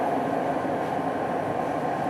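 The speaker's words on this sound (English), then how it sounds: "It's a lot louder than the other trains." Riding aboard a Toronto Line 5 LRT train: a loud, steady interior rumble and roar of rolling wheels and motors, constant throughout with no speech.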